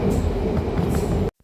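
A London Underground Piccadilly Line train rumbles loudly and steadily at close range, wheels clattering on the rails, then the sound cuts off abruptly near the end.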